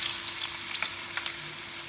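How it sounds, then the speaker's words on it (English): Three medium potatoes, salted, frying in a pan with sardines and eggplant, giving a steady close sizzle with scattered crackles and light stirring clicks, with no voices. "Now we will fry the potatoes"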